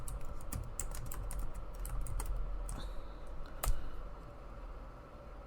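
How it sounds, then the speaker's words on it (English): Typing on a computer keyboard, close up: a quick, irregular stream of light key clicks with short bursts and brief pauses, one sharper tap near the end, steady room hum underneath and no voices. "I'm typing it up as we speak."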